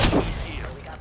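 A burst of gunfire in the shooter Apex Legends, a loud booming report at the onset decaying into a rumbling tail, brief and close.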